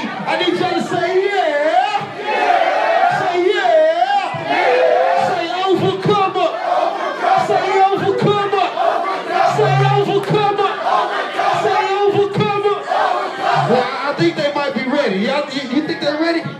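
Crowd at a live DJ set in Dallas shouting and cheering loudly and continuously, a dense roar of voices with chatter and yells throughout.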